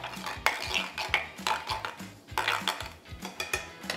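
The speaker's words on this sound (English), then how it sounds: "Gonna do 4 ounces of ginger beer. Give that a stir." A metal spoon stirs ginger beer in a Moscow Mule mug, ringing and clinking against the metal in a quick steady rhythm, close up and fairly soft, with no voices.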